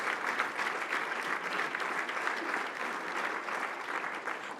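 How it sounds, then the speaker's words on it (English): Luncheon guests give a table of attendees a round of applause, steady, full clapping from a large indoor crowd sustained evenly throughout without voices. "Round of applause for the Sarah crew."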